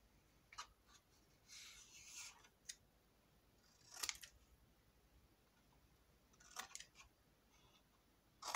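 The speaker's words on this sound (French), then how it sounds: "on coupe un biais" Paper scissors snip a bias strip of paper for an autumn album: a few faint, close crisp cuts spaced irregularly against a quiet room.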